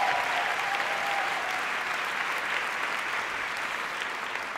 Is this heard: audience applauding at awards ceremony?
yes